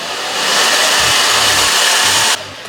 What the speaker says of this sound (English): let me put the blow dryer to it before I start talking